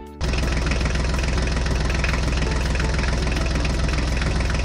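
A toy Mahindra mini tractor's engine sound plays steadily and loudly, a continuous rumbling idle that starts abruptly and keeps going without pause.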